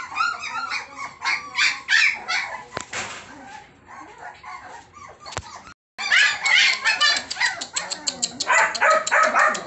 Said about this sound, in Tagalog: So, ito po yung pups natin, nag-aantay na sila lahat.